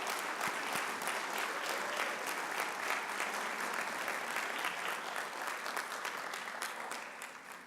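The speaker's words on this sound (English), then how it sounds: "let's give our street maintenance team an applause" An audience at the Baldwin Park State of the City event applauding the street maintenance team, giving sustained, even clapping that fades slightly near the end.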